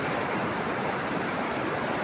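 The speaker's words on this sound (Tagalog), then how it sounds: "Grabe kadako sa tubig yun guys, makahadlok." An overflowing river in flood rushes past close by, a dense, steady roar of water with no breaks or voices.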